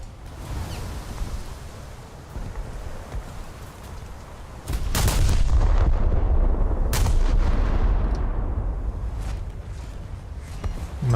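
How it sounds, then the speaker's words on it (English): Naval artillery in a World of Warships battle with a Scharnhorst battleship and the cruiser Helena: a steady low rumble breaks into a loud, heavy gun blast near the middle, followed by sustained booming and sharp distant cracks. "there goes a front shell room, at least something that looked like a front shell room detonation"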